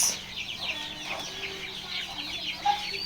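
Chickens cluck steadily at a wholesale poultry chick market, a dense overlapping chorus of fowl calls close by with a brief louder squawk near the end.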